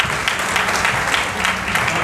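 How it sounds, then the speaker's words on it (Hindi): An audience applauds at a Hindi-speaking social organisations' joint-front meeting, welcoming a speaker to the stage; dense, steady clapping fills the whole stretch without breaks. "एक बार जोरदार ताली बजाकर उनका स्वागत कीजिए।"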